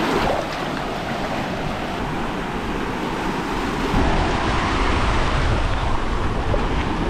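Loud, steady ocean surf at a beach in Jamaica, with waves rolling and crashing continuously close by and heavy wind buffeting the microphone throughout.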